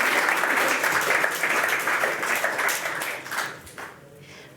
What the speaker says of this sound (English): A big applause for Mark.